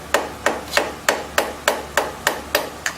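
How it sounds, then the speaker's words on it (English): Hammer taps a flathead screwdriver to pry out a pump cover, nine evenly spaced sharp metallic knocks at a steady, unhurried rhythm, close and clear with nothing else heard. "gently tap, and the cover will come out."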